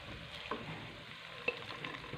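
Onion frying in a pan gives a soft, steady sizzle with faint crackles and a couple of small pops, quiet and close, with no voices.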